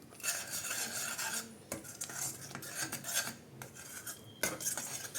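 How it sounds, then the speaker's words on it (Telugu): A spoon scrapes and stirs Maharashtrian-style egg rassa curry in a metal pot, giving close, rasping strokes with clinks against the sides and brief pauses between passes. "ఒకసారి మూత తీసుకొని కలుపుకుందాము."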